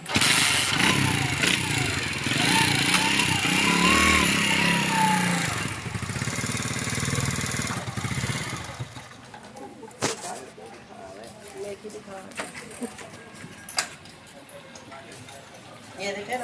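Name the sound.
70cc motorcycle engine running with gear engaged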